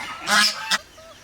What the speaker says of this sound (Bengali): বাপরে হাস কি দৌড়াদৌড়ি শুরু করছে